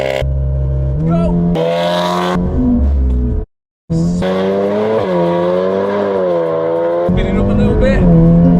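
A VW Mk8 Golf R launches hard from standstill to 60 mph, its engine revving loudly through rising gear pulls with brief tire spin, a short gap at a shift, and voices heard over the run.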